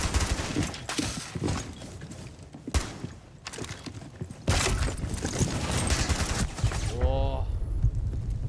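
Gunfire in the tactical shooter Rainbow Six Siege, with bursts of rapid automatic shots and sharp single cracks spread over several seconds, fairly loud and close, with brief voice chat mixed in near the end.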